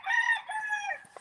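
Roosters crowing one after another on a morning farm, two long drawn-out calls close by and loud, heard alone with no talk.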